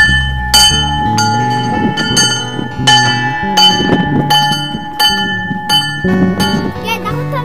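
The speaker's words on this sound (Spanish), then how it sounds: "¿A qué será esa campana?" Bells ring at Savonlinna Castle, Finland, in a steady pattern of bright struck tones with long sustained overtones, repeating roughly every second, with some voices faintly underneath.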